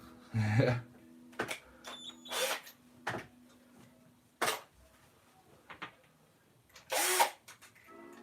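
A countersink drill bit hollows out holes in wood in a series of short, loud power-drill bursts with quiet gaps in between.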